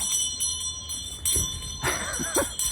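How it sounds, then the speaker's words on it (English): Bell ringing at an outdoor July 4th reading of the Declaration of Independence at the George Ross memorial, with repeated strokes over crowd murmur and occasional nearby voices. "the crowd is getting tired of the bell already"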